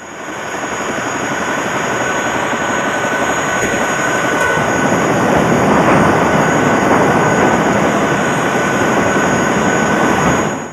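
A Vietnamese military helicopter dropping rice during the siege of Kontum roars steadily nearby, its dense rotor and engine noise filling the whole stretch at constant loud volume with no voices.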